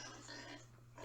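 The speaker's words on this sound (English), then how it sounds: "Pig." A pig oink sound effect plays from an iPad sound machine app, a short, faint grunting snort lasting about a second with no talk over it.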